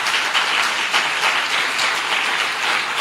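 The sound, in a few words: congregation applause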